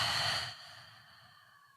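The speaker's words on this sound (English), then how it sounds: "Take a deep inhale through your nose and exhale through your mouth." A single deep breath, drawn in and then released in a long, soft exhale through the mouth, close and alone before fading into quiet.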